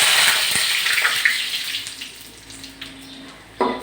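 Dried red chillies, bay leaf and panch phoron spices crackle into hot oil for a tempering, making a loud, close hiss that gradually settles. It flares up again sharply just before the end.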